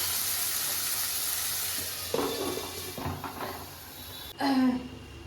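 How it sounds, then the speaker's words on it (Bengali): Chopped tomatoes cooking under a lid in a wok, lightly salted, give a steady close sizzle and hiss, broken by a few soft metallic clanks and a louder clatter near the end. "কড়াইতে যে টমেটোগুলো দিয়েছি কুচি, ওটা আমি সেদ্ধ করতে দিয়েছি ঢাকা দিয়ে।"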